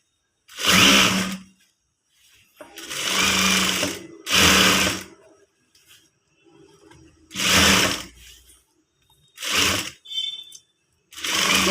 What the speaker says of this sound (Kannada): ಹೀಗೆ ಡಬಲ್ ಸ್ಟಿಚ್ ಹಾಕ್ಕೊಳ್ಳಿ